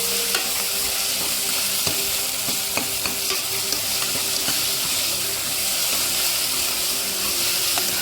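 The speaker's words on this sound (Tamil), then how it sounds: "பார்த்தீங்கன்னா தக்காளி இதெல்லாம் வதங்கிடுச்சு." Ginger, garlic and tomato sizzle steadily in a pan while a millet biryani base is stirred, with continuous frying crackle and occasional scraping clicks from the spoon, close and fairly loud, no talking.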